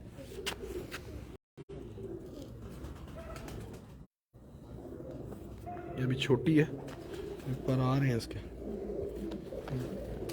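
Parwazi pigeons, small to medium-sized, give soft rolling coos in two clear bursts midway and near the end, close by, under steady indoor talking throughout.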